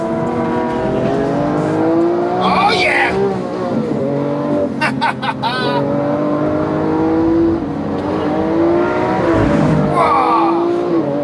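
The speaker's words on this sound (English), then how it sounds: "That V12 engine is absolutely brutal" A V12 sports car accelerates hard, its engine note climbing steadily through repeated upshifts, loud and close, with a brief tire squeal partway through and a voice exclaiming over the roar.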